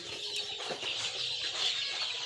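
Chickens on a small home farm cluck and stir in a steady, moderately close flock murmur, with scattered calls and no voices.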